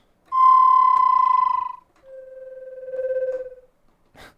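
Horror flute tremolo sample from the Simple Samples Audio library: a bright, sustained fluttering tone with a wavering pulse, then a lower, softer trembling phrase, ending with a brief rustle.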